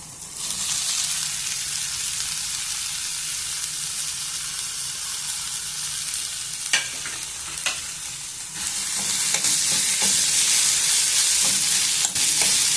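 Cauliflower (gobi) frying in a pan for gobi fried rice gives a steady, close sizzle throughout. Occasional stirring scrapes cut through it, and the frying swells louder toward the end.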